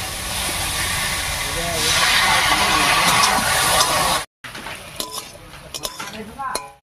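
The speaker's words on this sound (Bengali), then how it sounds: "আবারও সামান্য একটু জল দিয়ে আলুর সঙ্গে ডাঁটাটা কষিয়ে নেব" Vegetable stalks and potatoes are stirred and sautéed with a splash of water in a pan, giving a steady broad hiss that breaks off, then returns as scattered scrapes and clinks.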